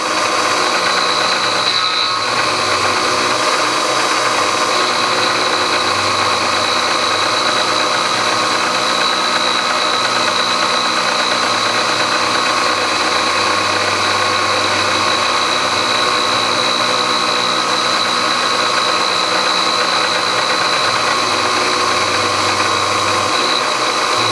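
A milling machine with a cutter making a pass on a rod, a loud continuous mechanical whine and grind with steady tonal hum that holds throughout, with no one talking.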